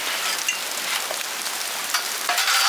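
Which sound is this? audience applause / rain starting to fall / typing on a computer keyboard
rain starting to fall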